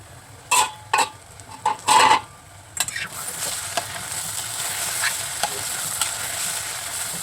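Onions fry in a pan for an egg curry while being stirred. A few distinct scraping strokes come first, then a steady sizzle with light stirring continues throughout.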